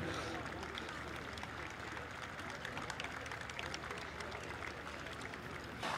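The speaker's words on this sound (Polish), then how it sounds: "Tak jest, wielkie brawa" An outdoor crowd at the Air Show Radom 2023 night display applauds in a steady, crackling wash for about six seconds, moderately distant and even in level.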